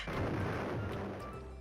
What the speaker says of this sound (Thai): ทำไมมีเสียงระเบิดก็ไม่รู้